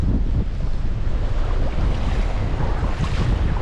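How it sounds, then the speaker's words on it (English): Strong wind buffeting the microphone outdoors beside a river while fly fishing for wild brown trout in remote Patagonia, a continuous loud rumbling roar with no pauses. "that wind is ugly now."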